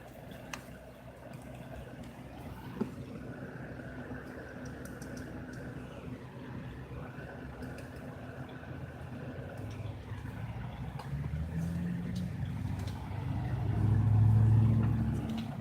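Busy street traffic drifts in through open windows beside a blowing fan, a steady low hum and hiss with vehicles passing at a distance and one swelling louder near the end.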